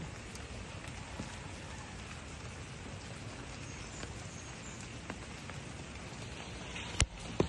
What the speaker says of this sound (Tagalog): Ay, lakas sa ulan, nababasa.